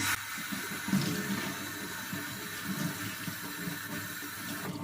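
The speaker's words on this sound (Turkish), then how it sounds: "Bezimizi yıkayıp tekrardan." A cleaning cloth is rinsed under a running kitchen tap, with steady water flow and splashing against the sink and brief handling sounds, no talk.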